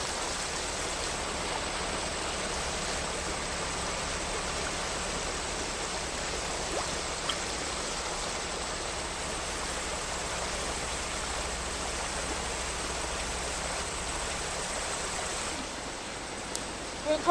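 Creek water flows steadily in an even, continuous rush, close and loud, holding constant for the whole stretch with a faint knock near the end.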